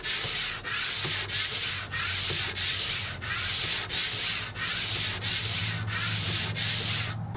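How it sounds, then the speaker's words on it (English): A Stanley No. 4 hand plane sole is rubbed back and forth on 220-grit sandpaper, making loud, steady rasping strokes with brief regular pauses between passes, close and continuous with no talking. "now I'm going to flip my beam over, make a few passes on this side with the 220"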